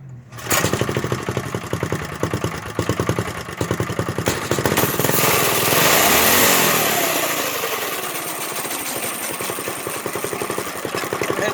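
A three-seater kart's small engine cranks and fires, then settles into a loud, close, rapid idle, with a brief rise in revs partway through and no talking.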